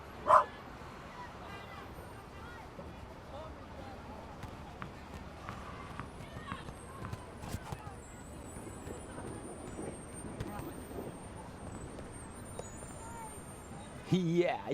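A dog in the video game The Raven gives faint yips and whimpers, with short bursts at the start and a louder cluster at the end over a quiet, muffled background.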